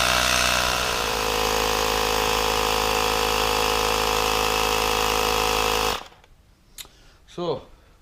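A tyre inflator pumps up a Suzuki Boulevard M109R motorcycle tyre fitted with a Metzeler M888. It makes a loud, steady buzzing motor drone close by, then cuts off abruptly. A few faint handling sounds follow.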